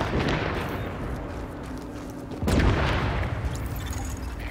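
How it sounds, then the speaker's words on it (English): A napalm tank explodes in the shooter game The Division, a dull distant boom swelling midway through a dense, rumbling wash of game noise and crackle that persists throughout. "we can see the explosion from here"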